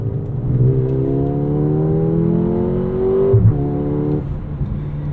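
A 2024 Mercedes GLA 35 AMG accelerates hard in a straight line, its engine note climbing steadily through the gears with a brief shift dip, loud and continuous with no talking.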